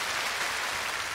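A studio audience at a televised Korean singing contest for ethnic Korean Chinese performers claps in a dense, loud, steady burst of applause to welcome a singer.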